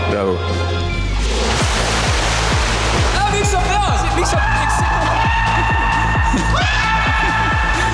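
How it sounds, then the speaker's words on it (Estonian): Massage jets in a spa pool gush in a loud, steady rush of churning water close by, with rhythmic pulsing thumps and a humming pump underneath, while people talk over it. "siin saab veemassaaži"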